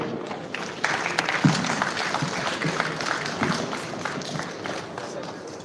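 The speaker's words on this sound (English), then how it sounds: "Another round of applause for His Lordship." Audience applause at a national peace accord signing ceremony in Nigeria, a moderate, continuous patter of many hands with some rustling and movement, building shortly after the start and holding steady.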